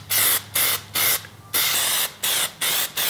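Plasti Dip rubberized coating sprayed from an aerosol can in light first-coat passes: six loud, close hissing bursts of varying length separated by short pauses, with no talk.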